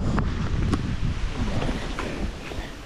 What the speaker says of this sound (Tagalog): Dito naman tayo sa lugar kung saan ay mahangin,